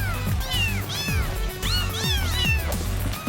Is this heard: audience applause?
no